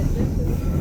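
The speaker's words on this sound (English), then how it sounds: "on one of the operating tour trains, and yeah, it's just going along the rail around" A heritage tour train runs along the rail near Sawdust Bridge in Devonport, Tasmania, giving a loud, steady, close rumble of wheels and carriage throughout.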